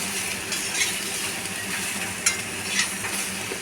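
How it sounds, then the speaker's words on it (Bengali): Sliced pointed gourd stirred and fried in a pan for a mixed vegetable curry, a steady close sizzle with occasional spatula scrapes and clinks, no talking. "পটলগুলোকেও ভালো করে নাড়িয়ে চাড়িয়ে নিচ্ছি"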